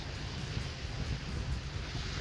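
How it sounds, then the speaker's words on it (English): Ocean surf rolls onto a beach as a steady, rushing roar mixed with buffeting wind noise, continuous and fairly close, with no voices. "Listening to the ocean waves crash up."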